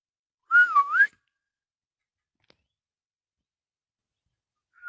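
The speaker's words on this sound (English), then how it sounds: "Should I whistle?" A person whistles outdoors at night, a single short rising and falling tune lasting about half a second, fairly close and clear, followed by near silence and a faint tone returning at the very end.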